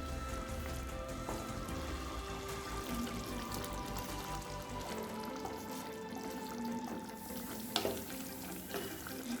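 Chicken and ground masala stirred and fried together in a pan for pepper chicken gravy, a steady close sizzle with scraping stir strokes running throughout, no voices.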